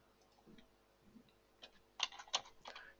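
A few scattered keystrokes on a computer keyboard as values are entered, soft taps at first then a couple of sharper clicks, close and quiet with no talking.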